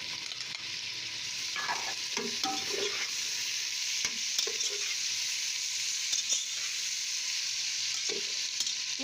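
Chopped tomatoes fry with potatoes in a pan for tahiri, giving a steady close sizzle with scattered stirring clinks and scrapes throughout.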